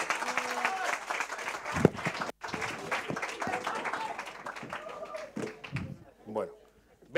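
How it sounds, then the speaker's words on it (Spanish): Audience applause at a business creativity and innovation event, scattered clapping mixed with talking voices, with uneven bursts and a brief drop near the end. "¡Aplauso, aplauso!"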